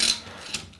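A quick clamp is ratcheted down on a bent wood lamination clock form, giving a short pair of sharp mechanical clicks, close and alone.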